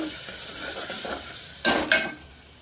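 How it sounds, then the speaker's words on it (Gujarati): A spoon stirs gravy with garlic and spices in a cooking pan, soft scraping strokes over a light sizzle, ending in two sharp clinks against the pan, close and without talk. "ગ્રેવી વેડી આ બધું મિક્સ કરી દઉં"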